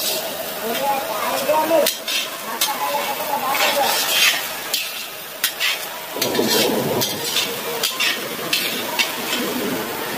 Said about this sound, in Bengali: এইভাবে হালকা হালকা করে ফুটবে